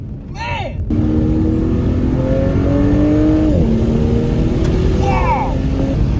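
An Audi S4 with a weak radiator accelerates hard, its engine note climbing steadily close up before a gear shift drops the pitch, then pulling again, with excited voices exclaiming inside the car.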